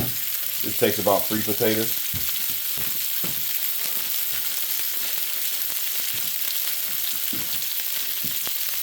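Potatoes brown in a skillet with a steady, dense sizzle that runs throughout, while a person speaks briefly near the start.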